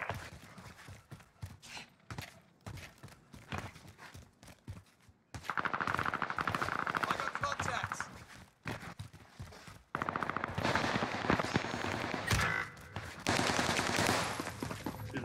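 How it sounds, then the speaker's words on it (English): Bursts of automatic gunfire in Call of Duty Warzone Pacific on the Caldera map, dense rapid volleys in two or three long stretches separated by quieter gaps, loud and close over game ambience. "The gun I was shooting only had 20 bullets in it."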